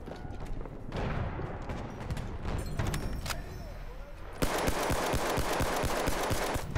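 Battlefield 1 battlefield gunfire, with scattered shots and impacts at first, then a dense fast rattle of automatic fire near the end, loud and close.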